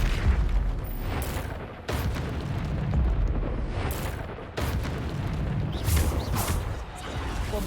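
Repeated Bombarda blasting-spell explosions in Hogwarts Legacy: loud, close booming bursts at roughly two-second intervals, each a broadband blast with a rumbling tail, over continuous combat noise and no talk.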